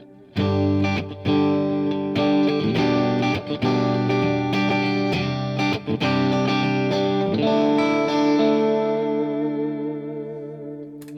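Electric guitar playing sustained chords and notes drenched in reverb and delay from an Eventide H9 pedal, with effected tails ringing out and slowly fading at the end.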